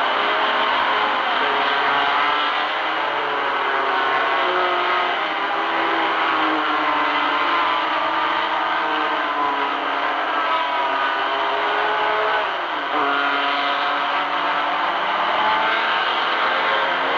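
Race cars roar away from a standing start with Fords in the lead, a loud, dense wall of engine noise that holds steady throughout, shifting pitch as the cars accelerate.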